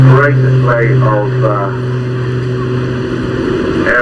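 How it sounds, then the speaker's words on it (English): Jet-assisted Pitts aerobatic biplane at the English Riviera Airshow 2023, pulling over the top of a loop; a steady, loud engine roar with a strong low drone holds throughout, partly masked by a commentator talking over a public address. "Here's the jet engine coming into play again at the top of that loop."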